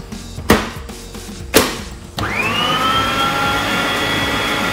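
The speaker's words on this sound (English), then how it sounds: "Then we're just going to whisk that up." Electric stand mixer whisking cupcake batter, two sharp thumps first, then the motor spinning up into a loud steady whine that holds to the end, close and with no talking.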